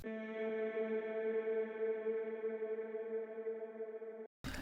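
An original, unpitched vocal sample from Splice holds a single sustained, harmonically layered tone, steady and alone with a slight echo tail, before stopping sharply.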